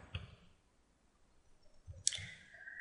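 A computer mouse gives two crisp clicks, one near the start and another about two seconds later, close and fairly quiet against a soft background, with no voices.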